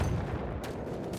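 A grenade blast in the video game Battlefield 1 rings out as one dense, loud burst of noise that quickly settles into a rough rumbling tail.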